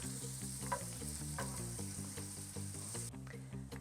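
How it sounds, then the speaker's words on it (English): Onions caramelize in butter in a cast iron pan over low heat, giving a soft continuous sizzle under a steady, rhythmic pulsing hum. "The butter, the cast iron, low, slow heat gives the onions such like a sweet flavor."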